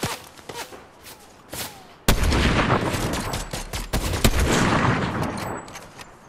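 Bursts of gunfire in the video game Fortnite, with a few sharp scattered shots followed by a loud, sustained volley of rapid fire at close range, largely free of talk.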